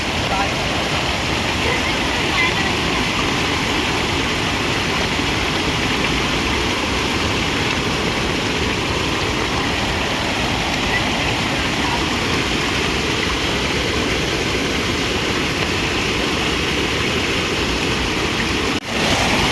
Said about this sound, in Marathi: पाणी पडताय